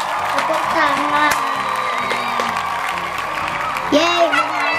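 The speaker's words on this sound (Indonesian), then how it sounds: "Tepuk tangan." Children clap and cheer excitedly at a home oil-and-water food-colouring experiment, a lively burst of whoops and shouts with voices talking over it.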